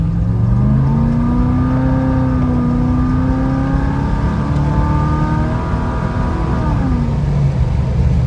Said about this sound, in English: Just out for a cruise in the Monte